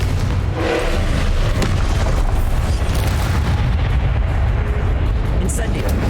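A Confringo blasting spell explodes in Hogwarts Legacy, a sustained loud booming rumble of blasts and bursts running through the whole stretch, with no talk over it.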